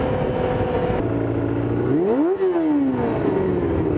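A Kawasaki ZX-2R (ZXR250) motorcycle engine revs hard and high-pitched, climbing sharply to a peak and falling back to a steady whining drone, loud and close with no voices.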